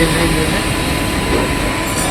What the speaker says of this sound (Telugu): ఇప్పుడు లోకల్ ట్రైన్ వస్తే దాన్ని వినియోగిస్తున్నాం.